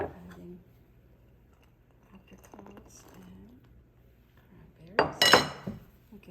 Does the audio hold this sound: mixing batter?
yes